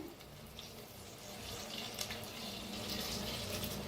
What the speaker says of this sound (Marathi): असं पाण्याचा शितुडा मारूया आपण